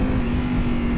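Motorcycle fitted with a very expensive aftermarket exhaust, pulled hard under throttle: a loud, steady engine roar held for a moment, close to the microphone, with no talking.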